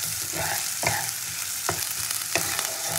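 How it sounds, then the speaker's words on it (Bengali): Onion frying in oil for vetki fish tel chorchori gives a dense, close sizzle with several rhythmic stirring scrapes against the pan and no speech. "পেঁয়াজটাকে একটু ভালো করে ভেজে নেব"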